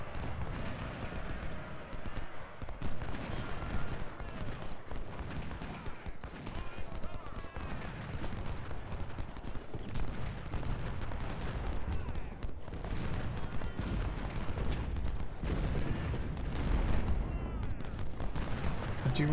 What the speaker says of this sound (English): And we'll get these two shots off and the artillery.